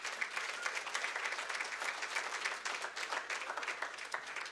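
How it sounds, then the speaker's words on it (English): A church congregation gives a clap offering, steady applause that sounds somewhat distant and faint and carries on evenly throughout. "Let's give the Lord a clap offering"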